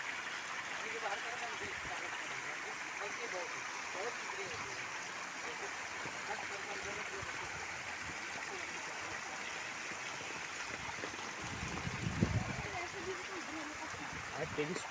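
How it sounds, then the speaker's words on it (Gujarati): Stream water flowing steadily past a pond area in Bharuch, a continuous broadband rushing wash heard throughout at moderate distance, with a brief louder splash-like swell near the end and faint background voices. "તમે જોઈ રહ્યા છો આ પાણી પેલી બાજુ જઈ રહ્યું છે"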